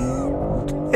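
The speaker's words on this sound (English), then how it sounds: "Just put your foot down." BMW M3 Competition G80 from 2021 with a six-speed setup, engine note rising under hard throttle, loud and close, steady harmonic rumble with a brief burst near the end.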